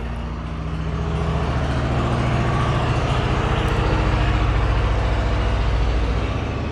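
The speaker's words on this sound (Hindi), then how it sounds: "ट्रैक्टर जा रहा है, ये देख लीजिए" A tractor passes by outside with a loud, throbbing engine drone that swells as it nears and stays strong, heard alone without talk.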